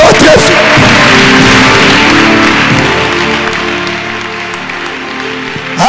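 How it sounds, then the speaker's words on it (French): A church congregation applauding and cheering loudly, a dense, sustained roar of clapping and voices that starts at full strength and slowly eases off toward the end. "Acclame encore très fort."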